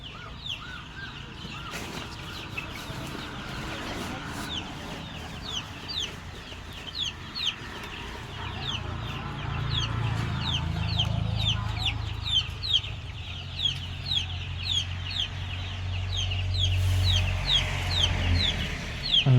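Kaveri gavran chickens kept in a crowded poultry pen cluck and chatter continuously, many birds near and far, with a low rumbling background that swells in the second half; no talk.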